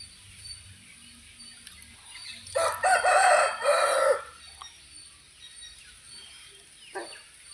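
A fighting rooster tethered outdoors lets out one loud, close crow lasting about two seconds, set against a quiet background with a faint cluck or call near the end.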